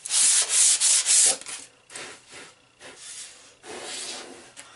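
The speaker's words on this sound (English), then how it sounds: "take some finer sandpaper, and clean her up" Close, dry rasping strokes of sandpaper rubbing along a wooden axe handle come in several rhythmic bursts, loud at first and then lighter, with no voices.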